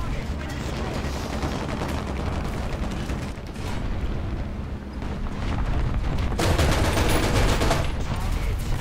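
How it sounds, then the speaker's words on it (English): Artillery fire in War Thunder during a tank battle: continuous loud rumbling barrage with heavy booms, getting stronger and denser toward the end, over constant battle noise. "Artillery killed me."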